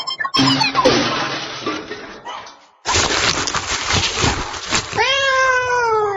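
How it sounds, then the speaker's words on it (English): A cat yowls and meows in an audio drama, a loud strained caterwaul over crashing clatter, then a rising wail at the end. "you have a cat in your pocket"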